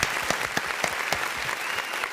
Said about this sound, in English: Let's give a round of applause for Izzy B.